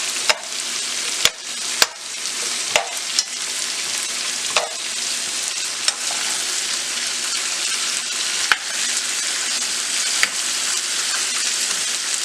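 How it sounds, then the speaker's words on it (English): Food sautéing in a pan seasoned with Hungarian paprika gives a steady, bright sizzle and crackle, broken by a few sharp clicks and taps of stirring, close and alone without speech. "we're just going to saute that until it's tender"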